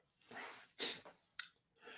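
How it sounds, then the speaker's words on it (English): A man sneezing in a quick fit, with two or three loud bursts and noisy breaths between them, close and alone with no other talk. "God, I think I need a tissue after that sneezing fit."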